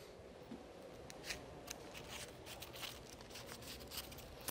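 Scissors snipping through a paper Möbius strip, a quiet run of small crisp cuts and paper rustles, close and alone.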